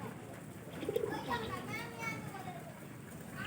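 Soft pigeon cooing from a flock nearby, mixed with chatter and children's voices in the background.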